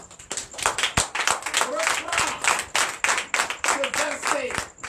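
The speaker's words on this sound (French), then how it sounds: "donnez de l'acclamation au Seigneur Jésus" A church congregation claps in bursts of sharp, irregular hand claps with acclaiming voices and shouts mixed in, loud and close throughout.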